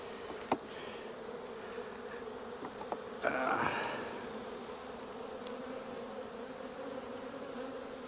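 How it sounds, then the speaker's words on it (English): Soft, steady buzzing of many honey bees droning together in a hive, with a few faint clicks and a brief rustle partway through. "We got plenty of bees."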